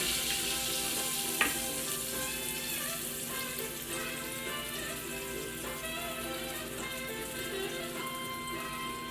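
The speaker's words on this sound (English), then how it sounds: "So now we're going to add our mixture into the pan." A potato and egg mixture for Spanish omelette fries in a pan with olive oil and butter, a steady soft sizzle with a single clunk near the start, no voices.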